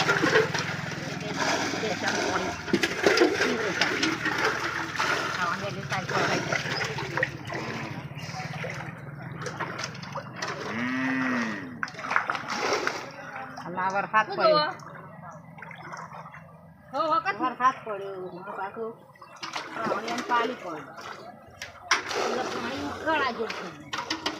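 Water splashes and trickles as a small household water tank (kundi) fills while being cleaned, with gurgling and pouring that runs under nearly continuous conversation from women nearby.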